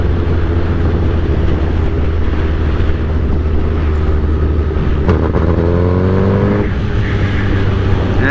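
A 2008 Suzuki GSX-R 1000 sportbike with velocity stacks and a bad clutch, running loud and close at low RPM with a steady engine drone, uneven stuttering pulses and a brief rev rising near the end.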